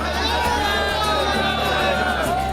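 A large crowd of devotees at the Mahakal temple fills the air with continuous cheering and chatter, a dense, loud wall of voices with shouts rising from it.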